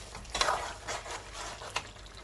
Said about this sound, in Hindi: अब दोबारा से चिकन की अच्छी तरह से भुनाई करेंगे।